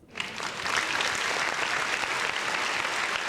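Loud crowd applause and cheering, likely played as a sound effect in the MTG Arena card game, swells in within the first half second and then continues as dense, steady clapping with no talking over it.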